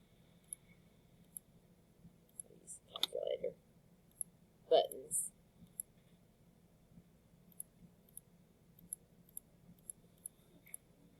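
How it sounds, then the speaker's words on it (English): Calculator keys pressed on a graphing calculator during matrix entry, giving a few soft clicks with two brief clustered bursts of tapping around the middle, near and quiet over low background hum. "Calculator buttons."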